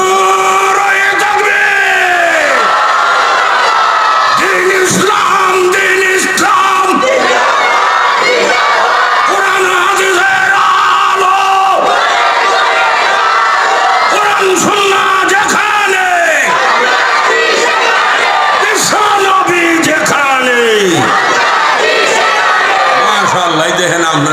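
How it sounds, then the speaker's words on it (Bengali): A large crowd at a Bangladeshi religious sermon in Kishoreganj loudly shouts the takbir chant in repeated surging waves, voices rising together and falling away with talk between them. "আর একবার জোরে কইবেন একটা তাকবীর"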